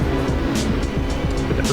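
A GT3 race car in the Assetto Corsa video game at Eastern Creek slows for a corner, giving a continuous loud engine roar with shifting low rumble and brief higher bursts as it brakes.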